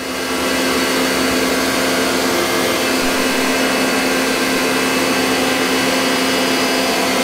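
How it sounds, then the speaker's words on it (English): Steady, loud machining drone from a machine tool chamfering a bore in an index plate for a camshaft grinder, a continuous broadband whir with a tonal hum that holds unchanged throughout, no voices. "So that's just chamfering that bore"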